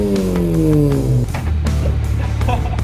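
A Honda Civic engine climbs in pitch toward the redline, then drops back to a rough idle with a few sharp clunks, close and loud, no voices.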